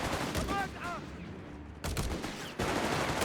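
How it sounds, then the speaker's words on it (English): Rapid bursts of MP40 machine pistol fire from riflemen in a Company of Heroes 3 battle, several clipped volleys crackling close and loud in a busy mix of combat noise. "Rifleman up close with MP40s"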